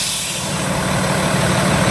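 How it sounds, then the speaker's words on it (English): A truck's air governor cuts out with a loud hiss of released air over a steady low engine idle, close by and lasting the whole short stretch. "You will hear an audible pop of the air governor."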